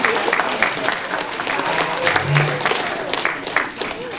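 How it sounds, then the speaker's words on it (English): An audience at a convention cosplay contest breaks into sustained applause, a dense wash of many hands clapping at steady volume for several seconds, with a voice briefly audible through the crowd noise. "Give the cupcakes a round of applause."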